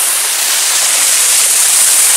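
A stream flowing out of a cave, fed by winter rainwater, gives a steady, loud, close rushing hiss of water that does not let up.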